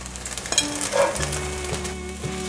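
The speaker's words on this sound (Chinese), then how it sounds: "快速的翻炒，炒至豆干焦黄色了" Dried tofu stir-fried quickly in a wok with king oyster mushrooms, a steady close sizzle broken by scraping stirs and a few light clinks of the utensil against the pan.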